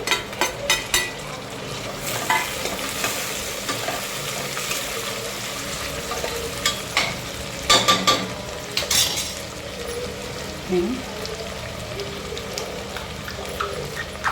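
Chopped onion and tomatoes sizzle in a hot pan for anda masala rice, with a steady frying hiss and repeated close stirring scrapes and clinks throughout.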